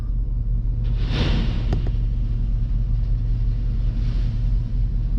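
A loud, continuous rumble of a heavy engine at a quarry, with a brief burst of rushing, rattling noise as gravel pours into a truck bed.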